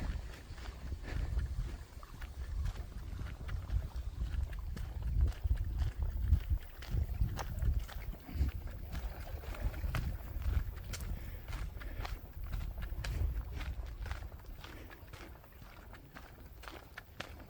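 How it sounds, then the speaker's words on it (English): A small canoe paddles past outdoors, with soft rhythmic paddle strokes and water movement mixed with wind, nearby footsteps and low rumbling for the whole stretch. "people were paddling by in a little canoe"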